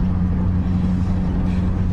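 A small old English sports car's engine idles with a steady, low rumble that holds close and even throughout, with no voices over it.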